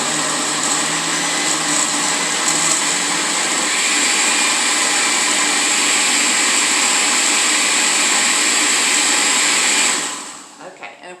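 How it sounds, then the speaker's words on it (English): A blender whirs loudly and steadily as it blends banana pudding cake batter, a close continuous motor roar that holds for about ten seconds, then winds down and stops. "I'm going to buzz the blender."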